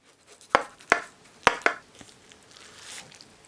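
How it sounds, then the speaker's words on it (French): A knife cuts a portion of chicken yassa gratin with olives, giving four crisp crunching cuts in quick succession, close and fairly loud, followed by a soft scrape and quieter handling. "Allez, on va se couper une jolie part."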